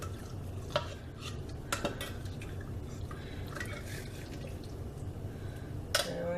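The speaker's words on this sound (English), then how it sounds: "I'm going to go ahead and add my cranberries to this." Canned cranberries going into chicken in a crock pot, with soft wet plops and a few sharp clinks of a spoon or can against the pot, close and fairly quiet with no talking.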